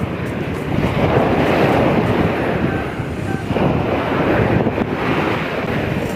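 Surf washing onto a clean beach rolls in as a steady, broad wash over six seconds, with wind buffeting the microphone throughout; no talking.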